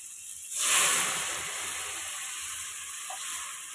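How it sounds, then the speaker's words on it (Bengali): Lentils tipped into a pan of fried green hog plums set off a loud sizzling burst that eases into a steady, softer hiss of frying, with no talking. "চলো এবার ভাজা হয়ে গেছে, এবার ডালটা দিয়ে দিই।"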